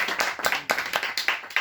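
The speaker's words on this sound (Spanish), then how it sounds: "Así que un aplauso para todos ellos." Audience claps at a book presentation held on a Saturday at noon: a small group applauding in loose bursts over under two seconds, with uneven rhythm and no voices.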